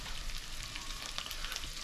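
The white part of an onion fries with sausage in a pan over moderate heat, giving a steady, close, crackling sizzle with scattered small pops.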